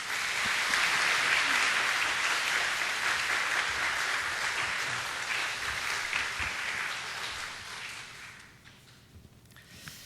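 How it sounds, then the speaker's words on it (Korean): A church congregation claps to welcome a missionary to the front, a steady broad wash of applause that fades out over the final seconds. "박수로 모시겠습니다"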